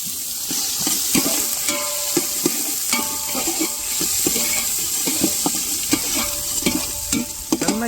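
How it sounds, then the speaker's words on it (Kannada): Onions fry in a pan for liver sukka, a busy close sizzle with frequent clanking, scraping stirs of a spoon against the metal at an irregular rhythm. "ಈರುಳ್ಳಿನ ಕೈ ಆಡಿಸ್ಕೊಂಡು ಒಂಚೂರು ಬ್ರೌನ್ ಕಲರ್ ತಿರುಗಲಿ"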